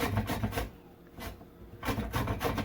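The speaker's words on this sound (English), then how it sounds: "rub it or grate it on this thing, the grater" Green plantain rasps against a hand grater in quick back-and-forth strokes, several close scraping bursts with a brief pause in the middle, heard alone without talk.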